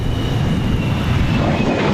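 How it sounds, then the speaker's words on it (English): An F-104 Starfighter jet passes as a broad, steady roar with a faint high whine, loud and continuous without a break, with no talk over it. "A very nicely painted up F-104 Starfighter"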